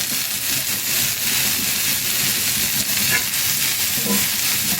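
Butter sizzling in a pan while vegetables for an egg sandwich cook, a loud continuous frying hiss with faint stirring underneath.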